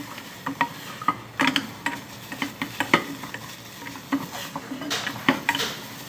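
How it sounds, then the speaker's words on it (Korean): Vegetables being stir-fried in a pan with a splash of water, carrots among them: steady light scraping and clinking of a utensil against the pan over a soft sizzle, quick irregular strokes throughout. "그래서 잘 볶아주세요"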